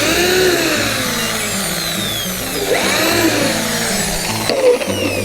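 A power driver sinks screws into decking planks outdoors, its motor whirring and rising in pitch through a couple of short bursts, close and steady.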